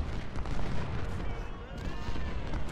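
Cannon fire in the Civil War strategy game Ultimate General: Civil War at Chantilly, a dense, continuous rumble of booming shots and battle noise running throughout with no pause.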